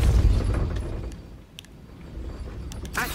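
Depulso spell effect from a Harry Potter video game: a deep, booming magical blast that opens loud and low, fades, then ends with a short sharp burst.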